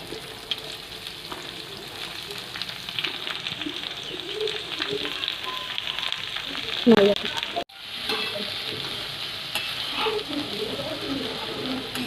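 Okra going into a pan of hot oil with charred chilies, frying with a steady crackling sizzle and stirring, a louder burst of spattering near the middle, then continued sizzle; faint birdsong or cooing in the background.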